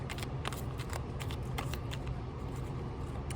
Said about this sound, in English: Wow, I can't shuffle at all, apparently.